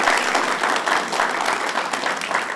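Studio audience applause for a salsa game segment on a TV game show, a dense, steady clatter of many clapping hands held at an even level for the whole stretch.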